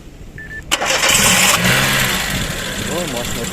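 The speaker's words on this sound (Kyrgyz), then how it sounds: "Машина оталды." A car engine cranks and catches at a roadside auto-electric and motor repair shop, a sharp start burst followed by a steady, loud idle rumble that carries on; a voice speaks faintly over the running engine.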